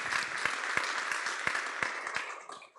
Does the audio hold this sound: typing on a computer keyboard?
no